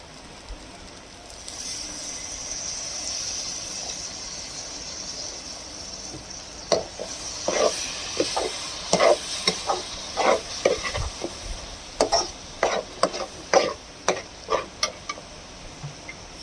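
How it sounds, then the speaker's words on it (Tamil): Masala of garam masala and coriander powder sizzles in a pan as a little water is added, a steady frying hiss followed by a rapid run of sharp spoon scrapes and stirring clicks, with no voices. "இதில் கொஞ்சமாக தண்ணி ஊற்றிக்கலாம்."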